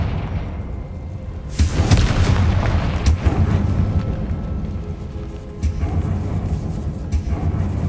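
Heavy blasts from the Confringo spell in the video game Hogwarts Legacy, with loud booming bursts near 2 s, 3 s, 5.6 s and 7 s over a constant low rumble.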